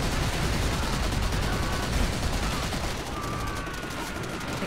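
Sustained battlefield gunfire from the World War II shooter Call of Duty: World at War, a dense, continuous roar of rifle and machine-gun fire with heavy low rumble, steady and loud throughout.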